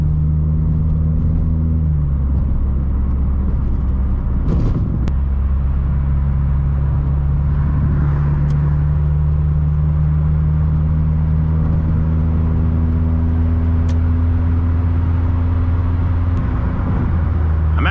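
A 2002 Mitsubishi Lancer engine drones steadily while pulling on a highway, with strong low rumble and road noise throughout, loud and continuous with no talk.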